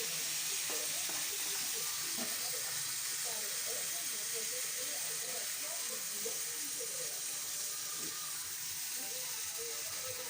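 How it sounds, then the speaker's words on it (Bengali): Boiled bottle gourd and potato hiss and sizzle steadily in a hot pan, a constant close frying sound with faint stirring clicks. "আগে থেকে সেদ্ধ করে লাউ আলুটা যেটা রেখেছিলাম সেটা আমি এবারে ঢেলে দেবো।"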